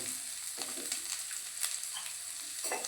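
Onions sauté with rock salt in a pan, a bright continuous sizzle close by with a few soft stirring scrapes, no voices over it.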